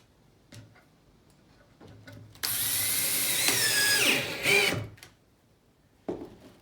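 A power drill drives screws in one sustained whirring burst of about two seconds, with the pitch shifting as it runs. Quieter clicks and taps come before and after the burst.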